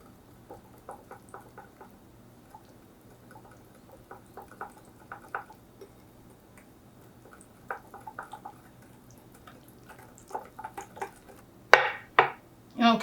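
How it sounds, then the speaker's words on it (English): Keto maple bacon coffee cake batter is whisked in a bowl, giving sparse, irregular light clinks and taps that grow louder and sharper toward the end, with no talking. "now you just want to go ahead and whisk this up together"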